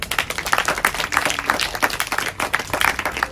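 Audience applause at a foundation event in India, a dense, steady crowd clapping that carries on without a break throughout, loud and close, with no talk over it.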